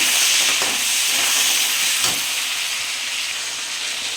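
Crab legs fry in a hot pan with a constant, loud hissing sizzle that eases slightly toward the end, marked by a few faint knocks, and no voices.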